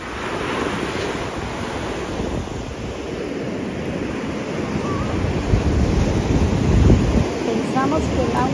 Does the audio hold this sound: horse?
no